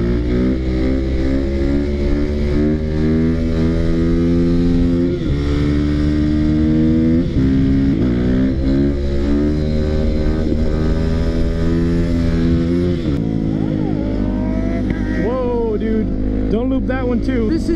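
A Yamaha WR450 dirt bike pulls hard in its highest gear, the engine droning loud and steady with rising pitch, while riders shout and talk excitedly over it.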